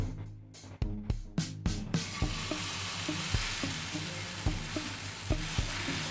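Spoonfuls of potato cheese pancake batter drop into hot refined oil. Each lands with a sharp clack followed by a loud, steady sizzle, and several more spoon taps and scrapes recur at irregular intervals close by.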